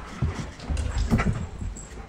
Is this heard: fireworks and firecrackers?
no